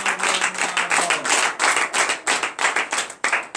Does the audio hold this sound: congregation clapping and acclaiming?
yes